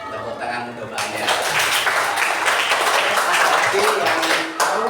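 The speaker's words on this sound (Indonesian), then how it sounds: "Tepuk tangan untuk banyak." A class of students breaks into lively applause that swells quickly and carries on steadily for several seconds after a brief moment of talk.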